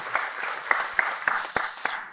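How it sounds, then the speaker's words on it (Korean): Audience applause at a Buddhist temple ceremony, a short burst of claps from a seated crowd with sharp individual claps standing out, steady and moderately loud, no talking over it. "박수 한번 보내주시죠"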